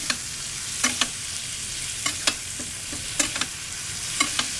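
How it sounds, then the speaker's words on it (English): Steaks sear in a pan over medium heat while being basted with garlic butter; a constant sizzle runs underneath repeated clicking spoon scrapes and spatters, close up with no talking. "Now we'll reduce the temperature. We'll bring this temperature down to medium, and we will baste our steaks."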